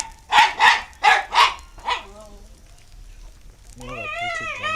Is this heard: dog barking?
yes